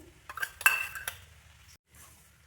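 Carrot halwa stirred in a pan over low heat, heard as a few close scraping and clinking strokes of a spoon against metal over a faint low hum, then a short gap.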